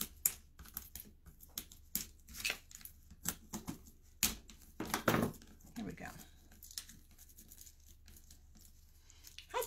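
Soft crinkling and tapping sounds come from a canvas panel being unwrapped at close range, quiet and intermittent, with a voice speaking in the background.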